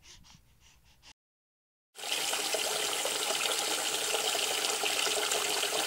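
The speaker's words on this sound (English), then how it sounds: "let's go ahead and turn on the water" Water runs from a tap into a bath, a steady broadband rush that starts abruptly after a brief silence and then pours continuously and loudly.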